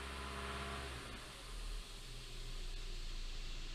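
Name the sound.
2017 Hyundai Elantra engine revving up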